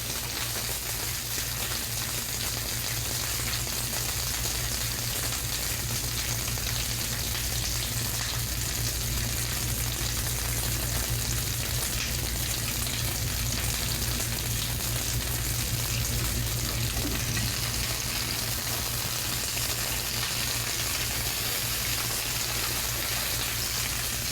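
Asparagus sizzles and blisters in a hot frying pan, a steady, even crackle of frying that holds at constant level throughout without any talking.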